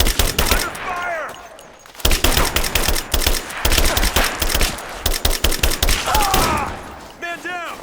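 Rapid gunfire in Rise of the Tomb Raider, with dense bursts of automatic shots rattling in quick succession, broken by brief pauses, while shouting voices call out over the shooting.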